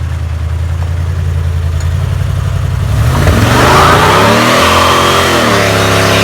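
A big-block Camaro engine idles, then roars into a loud, sustained rev during a burnout that climbs and wavers as the tires spin, close and with no talking.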